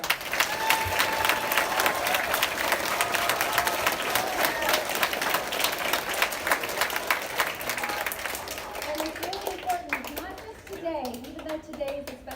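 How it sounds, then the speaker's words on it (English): An elementary school audience, with many children among them, claps for veterans in a loud, sustained round of applause that fills the room and then thins out, as children's chatter and voices rise near the end. "if you could also give another round of applause to our veterans today"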